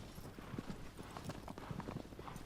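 A horse gallops in Shadow of the Colossus, its hooves beating a quick, regular clip-clop rhythm, close and steady over a low rumbling background.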